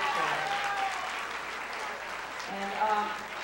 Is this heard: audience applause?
yes